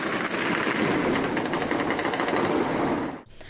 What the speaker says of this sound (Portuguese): Ela também registrou o barulho dos tiros na região.